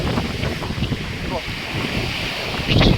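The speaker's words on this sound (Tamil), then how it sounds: "மட்டும் கடல் அடிக்கிறது." Sea surf rolling onto a beach lined with dumped stones, a continuous roar of breaking waves mixed with gusty wind buffeting the microphone.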